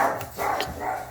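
A pet dog gives a quick pair of close, loud barks indoors, sharp and brief with a short gap between them.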